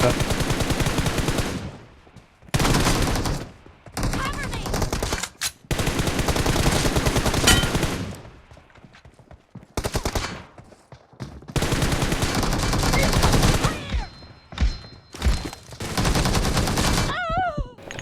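Close-range AKM and M4 rifle fire in the PUBG battle royale game: long loud automatic bursts repeating in a dense fusillade, broken by short pauses, with no talking.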